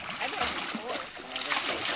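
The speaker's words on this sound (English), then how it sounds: "Look at the tail whipping all the water all over me" A dog's tail whips through the water while swimming, throwing continuous close splashes and sloshing; a person talks over the splashing throughout.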